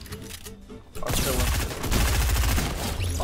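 Rapid gunfire from the Fortnite battle royale game, a dense, loud burst of repeated shots that starts abruptly and keeps firing steadily for a few seconds, close and forceful, with a player's voice talking over it.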